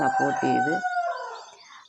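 A single rooster crows nearby, a loud strained call that rises then fades out over about two seconds.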